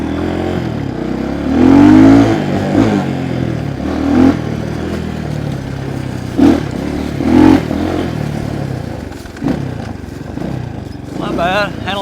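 A dirt bike, a Trailmaster TM 31 or Kawasaki KLX 300, rides laps through the woods, its engine revving and easing with rising pitch sweeps and clattering over rough ground, while a rider talks over it.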